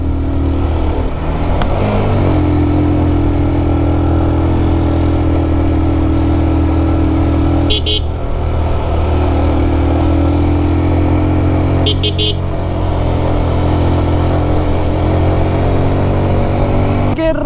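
A motorcycle engine drones steadily and loudly throughout a ride in hilly terrain, with a couple of brief horn beeps over the constant hum.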